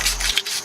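Fine sandpaper rubbed over a wheel hub surface on a 2016 Nissan Maxima during hub and bearing replacement: a brief, close, dry scratchy rub lasting under a second.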